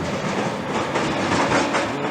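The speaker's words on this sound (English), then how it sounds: "This is a little train ride where you push the trolley up yourself up to the top of the bank" Small fairground push-up train ride rolling on rails makes a continuous rumbling clatter of wheels on track, moderately loud and close, with no talking.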